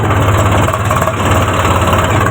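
A tractor engine idles steadily, a continuous low, throbbing rumble with a pulsing beat that stays loud and even throughout.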